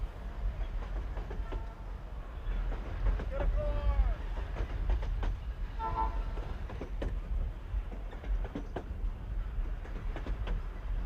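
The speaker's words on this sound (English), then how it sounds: "the train rolls past several wineries at the south end of town" The Napa Wine Train rolls on the rails past wineries south of St. Helena, a steady low rumble with rhythmic clicks and a few squealing wheel screeches mid-way, no talk.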